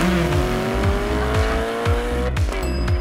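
A performer vocally imitates a black car pulling in and kicking up dust, giving a loud, close, revving engine drone with pulsing bursts and a squealing rise, about three seconds long.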